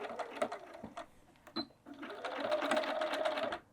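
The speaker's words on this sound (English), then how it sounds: "I'm just going to sew right into that corner." A sewing machine stitches into the corner of a fabric town bag, running in short bursts, pausing briefly, then a steady rapid whir of needle strokes near and clear before stopping.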